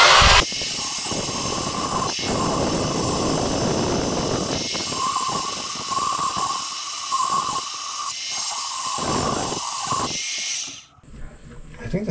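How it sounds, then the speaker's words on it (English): A very dull die grinder grinding away at a cast iron axle, a loud, steady high-pitched whine with a hissing edge that runs almost without a break for about ten seconds before stopping abruptly. "I got my very dull die grinder out here, and I'm just grinding it away. It's cast iron"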